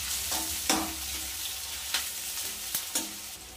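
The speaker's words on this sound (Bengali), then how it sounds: "পেঁয়াজ তো ভাজা চলছে" Chopped onions sizzle in hot oil in a pan alongside cardamom and bay leaf for a spicy chicken curry, a steady soft frying hiss broken by a few sharp clinks of a stirring spoon against the pan.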